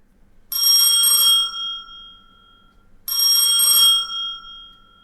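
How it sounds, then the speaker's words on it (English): A bell in the Roblox video game rings twice, about two and a half seconds apart, each a bright, loud metallic ding with a lingering ring, heard alone with no talking. "I will ring the bell."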